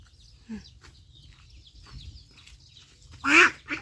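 Ducks being caught on a farm, with faint quacks through a low background rumble, then a louder burst of agitated quacking near the end.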